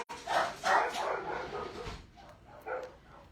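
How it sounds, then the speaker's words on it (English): Several dogs bark indoors at neighbors outside, a run of sharp, moderately close barks and yips at the start, then a quieter pause and one more bark near the end. "The dogs will let us know that you're here, because they definitely do."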